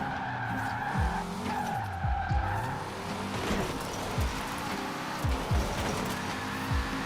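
A Peugeot 205 Rallye tuned as a drift car in Forza Horizon 4 squeals its tires through repeated skids, the engine revving and dropping between bursts, loud and continuous with no talk.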